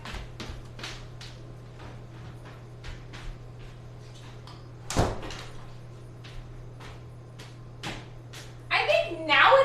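A door is pulled shut, giving one solid thud midway through, with light tapping and clicking sounds and a steady low hum around it.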